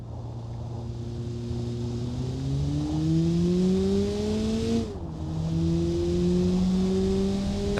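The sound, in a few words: car engine accelerating in Automation video game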